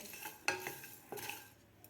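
Spices dry-roasted in a hot pan: a quiet faint scratch of a utensil stirring, with two brief clinks of metal against the pan, close and without talk.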